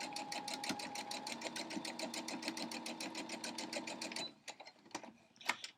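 A sewing machine quilting a shredded crumb block with a USA flag theme runs in a fast, steady, even stitching rhythm for about four seconds, loud and close, then stops and leaves a few soft clicks and handling noises.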